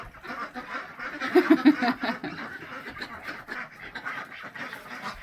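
Farmstead ducks and geese quacking and honking in winter, a busy cluster of calls mid-clip over a continuous chattering flock background.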